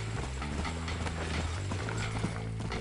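Horse galloping in the Western game Red Dead Redemption, a fast steady clip-clop of hooves with harness jingle, close and continuous throughout with no talking.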